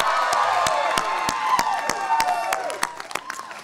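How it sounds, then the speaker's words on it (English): A graduating class cheers and claps at a 2018 commencement ceremony. Sharp applause and whoops from a crowd fill a large room, loud at first and then thinning out. "Yes, you can cheer."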